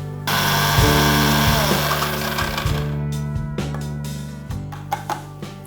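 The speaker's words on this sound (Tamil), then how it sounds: "இதெல்லாம் சேர்த்து பவுடர் பண்ண போகிறோம்." A mixer grinder powders cumin and black pepper in bursts, its loud motor whine surging on and off several times with short pauses and pulses near the end.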